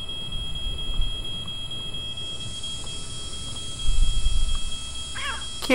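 A cat in the White Day: A Labyrinth Named School horror game lets out a brief, fairly close meow near the end, rising over a steady low ambient drone with no talking.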